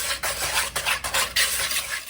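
Apple cider donut cake batter is mixed in a bowl, with rhythmic scraping and swishing strokes of a utensil repeating close by, each pass separated by brief pauses, and no talking.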